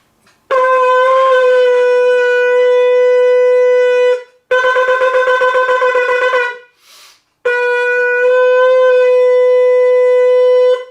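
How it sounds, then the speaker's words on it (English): Three long, loud shofar-like horn blasts, each held steadily for several seconds with short gaps between, brassy and buzzy, close by with no speech. "It sounds like this. First the tekiah."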